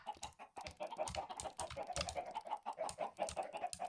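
Chickens in the video game Minecraft cluck in a steady run of short, busy calls, fairly loud and close with no talk over them.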